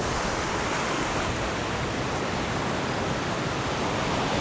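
Ocean waves at high tide on Mirissa beach, Sri Lanka, make a steady, dense wash of surf that roars evenly for the whole stretch, with no single breaker standing out and no voices.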